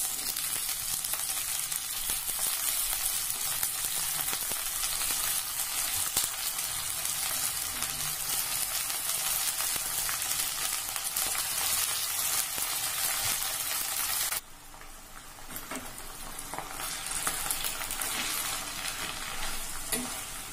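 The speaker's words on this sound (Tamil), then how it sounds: "சின்ன வெங்காயம் லேசா வதங்கினதுக்கு அப்புறமா முருங்கைக்கீரை போடுறேன்." Drumstick leaves with shallots sauté in a pan, giving a steady, close sizzle with scraping stirring throughout; the frying briefly dips lower partway through before building back up.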